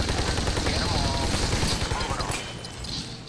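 Gunfire in the video game Army of Two: The Devil's Cartel, a dense, continuous clatter of shots and bursts filling the scene at fairly loud level, easing slightly toward the end, with a voice talking over it.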